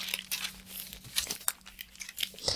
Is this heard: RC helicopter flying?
no